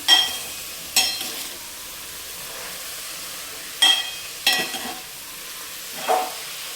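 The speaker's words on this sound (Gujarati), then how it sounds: "ધીમે ધીમે ચલાવતા આપણે ઘીમાં શેકી લેશું સૌપ્રથમ દૂધીના ખમણના." Grated bottle gourd slowly stirred and roasting in ghee for halwa, with a low steady sizzle broken by several short scraping stirs of a spoon against the pan.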